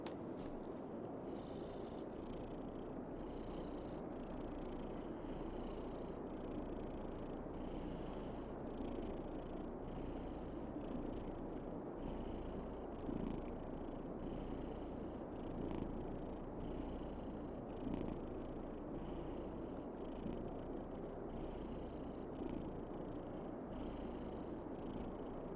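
A white cat purrs close up in a steady, continuous rumble with soft rhythmic breathing pulses, alone and uninterrupted throughout.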